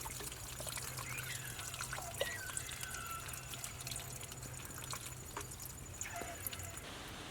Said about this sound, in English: I flushed 8 gallons of water through this thing until it ran clean.